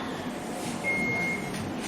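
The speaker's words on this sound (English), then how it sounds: "These are professional quiz buzzers" Professional quiz buzzer tested at a school quiz competition, giving one steady electronic tone lasting about half a second over a murmuring room background.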